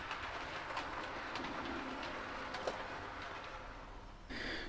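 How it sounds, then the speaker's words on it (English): A small model two-car electric multiple unit train rumbles past steadily without stopping, with faint rhythmic clicking of wheels, while birds coo and chirp in the background. "The first fast train from Brighton, comprising another two-bill EMU, passes through Havant Aclew without stopping."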